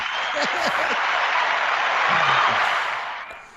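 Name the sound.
applause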